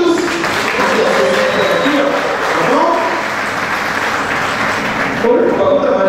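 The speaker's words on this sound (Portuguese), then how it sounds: "Aplausos para esses meninos lindos." Audience applause for a group of boys at a theatre show, a dense, steady wash of clapping that fills the whole stretch at high level, with a few voices cheering over it near the end.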